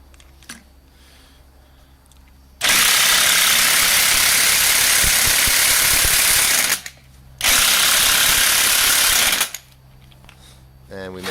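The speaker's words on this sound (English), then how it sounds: "Now we're going to take our impact wrench, 14 mil, and hope that this pops off." A 14 mm impact wrench works on a rear shock bolt of a 2006 Chevrolet Aveo, giving two loud, sustained bursts of rattling hammering of about four and two seconds, separated by a short pause.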